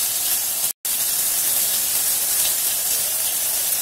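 Long-cut sliced onions sizzle in a pressure cooker after cumin and asafoetida have crackled, a steady loud broadband hiss with one brief dropout near the start.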